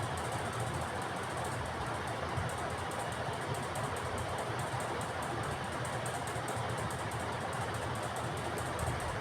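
Sewing machine stitching a cloth shopping bag made from leftover fabric, a continuous fast mechanical whir and rattle, close and steady throughout with no pauses.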